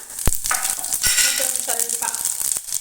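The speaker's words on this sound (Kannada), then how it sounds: "ಇದಕ್ಕೆ ಕಾದ ಎಣ್ಣೆಯಲ್ಲಿ ಜೀರಿಗೆ ಸಾಸಿವೆನ ಹಾಕೊಳ್ಳೋಣ" Cumin and mustard seeds crackle and sizzle in hot oil in a pan, close by, with sharp pops and spatters over a steady frying hiss.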